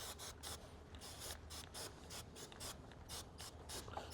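Motorcycle drive chain on a Royal Enfield Interceptor 650, soaked in cleaner and turned by hand, gives a steady run of close ratcheting clicks in a quick, regular rhythm, heard alone.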